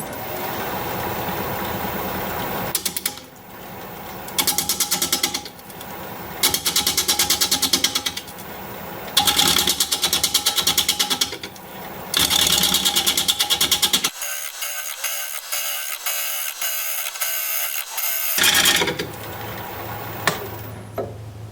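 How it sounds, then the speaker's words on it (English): A square carbide tool flattens the top of a black walnut piece spinning on a wood lathe, giving a loud, rough, rattling cut in repeated bursts, with short pauses and one lower-pitched steady stretch between passes. "I think I'm gonna run a carbide tool down here to flatten off the top a little more than it is"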